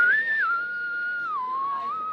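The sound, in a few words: whistling imitating Western-style whistles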